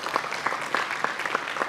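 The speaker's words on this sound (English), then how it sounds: "A huge round of applause to all of you." An audience at a university National Science Day event gives a short burst of applause, brisk, evenly spread hand claps heard at moderate distance.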